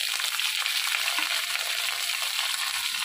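Potatoes dropped into hot oil with green chilies for a white potato curry, a loud dense sizzle and crackle of frying that holds steady throughout.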